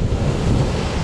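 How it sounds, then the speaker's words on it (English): Big sea waves breaking on a shore in strong wind, a loud, close, continuous roar and wash of surf with wind buffeting, no talking. "I didn't expect that we're going to get so many big waves"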